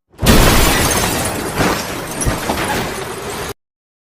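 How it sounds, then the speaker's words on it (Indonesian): A film scene of a car crushed in a crash with a cattle truck: a loud, sustained burst of shattering glass and crunching impact noise lasting about three seconds, then abruptly cut off. "mobil yang dikendarai Aan pun harus hancur akibat tertabrak oleh truk pengangkat lembu"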